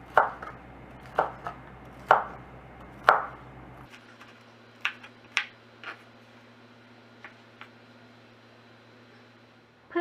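Sharp knife chops on a cutting board cutting hot fried pork belly, a handful of loud irregular strikes followed by several lighter taps, close by with a low background hum.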